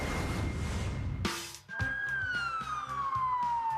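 An ambulance siren wails in a short stretch. A brief burst of noise comes first, then the siren sweeps slowly downward, heard from a moderate distance.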